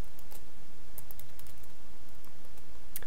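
Rapid typing on a computer keyboard in a steady stream of close, crisp key clicks, with occasional louder strokes and no talking.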